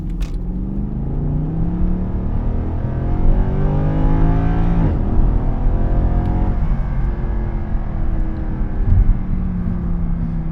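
A 2012 Mercedes-Benz C63 AMG with a naturally aspirated 441-horsepower engine accelerates hard from inside the cabin, its deep exhaust note rising steadily through a gear change near the middle and pulling again into a sustained roar.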